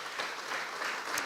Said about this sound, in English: All right, a round of applause to Fred.